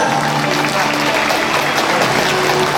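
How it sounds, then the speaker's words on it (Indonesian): Audience applause for the MC at a Vesak celebration, a steady wash of clapping from a crowd filling the whole moment, with some voices mixed in. "Mari kita berikan tepuk tangan buat MC kita yang luar biasa."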